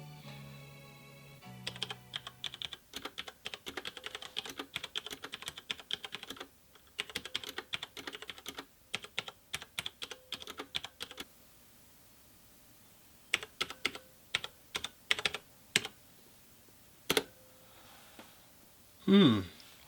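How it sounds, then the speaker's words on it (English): Keys clatter on a Cougar Attack X3 mechanical gaming keyboard in quick bursts of crisp close clicks, broken by pauses and a few louder single strokes, with no voices. "So I'm just going to type something so you can hear it as a sound test."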